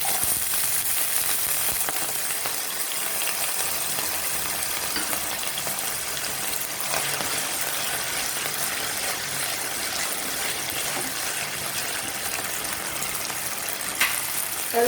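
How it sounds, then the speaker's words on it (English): Potatoes and mixed vegetables frying in a kadai, giving a loud, dense, continuous sizzle throughout with faint stirring clinks near the end, close up and without speech. "Next we will put the potatoes. We have to fry all the vegetables."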